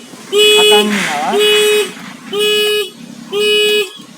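A motorcycle security alarm sounds when the bike is moved, giving four loud, close, siren-like tonal blasts. The blasts come in an even pulsing pattern with a brief warbling sweep between the first two.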